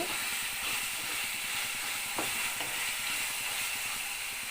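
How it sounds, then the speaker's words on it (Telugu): Ginger garlic paste frying in a pan, heard as a steady, dense sizzle that holds an even level throughout, close and continuous, with a faint clink or two of a stirring utensil partway through. "అల్లం వెల్లుల్లి పేస్ట్ పచ్చివాసన పోయే వరకు వేయించుకుందామండి"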